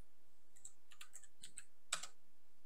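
Computer keyboard keys pressed for a shortcut and then Enter, a few faint, quick clicks in a short cluster ending in one slightly louder keystroke.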